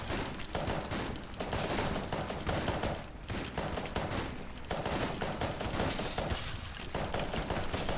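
Rapid gunfire from the Polaris gun in the video game Enter the Gungeon, a dense, continuous stream of shots fired as fast as the button is clicked, loud and steady throughout, layered with chaotic in-game effects.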